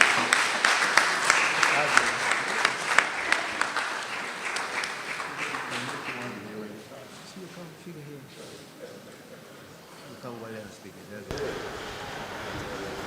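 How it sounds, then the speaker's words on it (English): Applause at a St. George North branch meeting, loud, crisp clapping from a gathered audience for several seconds that fades into lighter scattered claps and room noise, with a brief voice near the end. "Let us really applaud the Attorney General on the sterling effort he's making."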